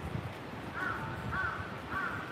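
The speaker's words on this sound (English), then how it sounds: "Oh, the crows. I don't remember those crows." Three evenly spaced caws from crows in a Tokyo neighborhood sound at moderate distance over a steady low outdoor hum.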